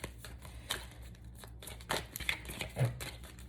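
Tarot cards are shuffled by hand in soft, irregular riffles and papery slides, with a few sharper flicks and taps spaced across a few seconds, close up in a quiet room.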